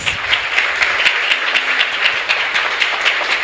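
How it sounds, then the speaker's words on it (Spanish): Applause from a church congregation at a Sunday Mass in a chapel, a steady patter of many hands clapping together without a break, fairly close and even in loudness. "Un aplauso para todos ustedes"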